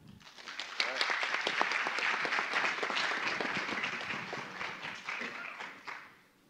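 An audience applauds to welcome Dr. Susan Shaw at a medical conference, with dense, sustained clapping from a large crowd that swells quickly, holds steady for several seconds and then tapers off.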